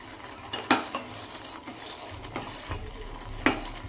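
Close scrapes and light clinks of a spoon against a pot as ground cardamom and clove powder is stirred into thick moong dal payasa, irregular strokes over a soft background hiss.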